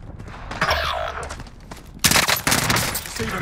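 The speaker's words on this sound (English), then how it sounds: "Receiving hostile fire." Bursts of gunfire in the game Warzone, a few close, sharp volleys with a louder rattling burst near the end.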